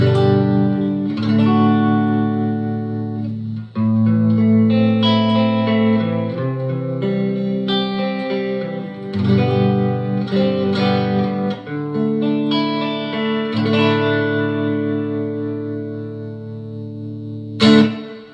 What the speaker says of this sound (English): I'm playing a Telecaster, now I'm on the neck position.